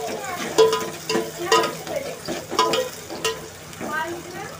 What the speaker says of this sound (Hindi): अब इसको फ्राई करेंगे।